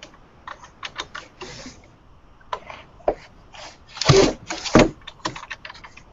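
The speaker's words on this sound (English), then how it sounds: "A lot of typing in the computer is happening." Computer keyboard typing sounds close by as irregular bursts of key clicks with short pauses, a couple of louder clustered strokes near the end and no talking.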